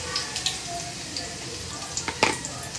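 Chopped onions tossed into hot oil in a frying pan, giving a steady soft sizzle with scattered crackles and a brief louder burst near the end, close up and fairly quiet.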